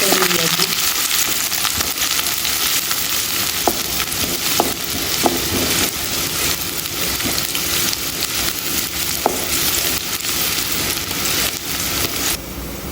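Sliced onion fries in a spoonful of hot oil in a pan, a steady close-up sizzle with a few light clinks of stirring scattered through it and no talking.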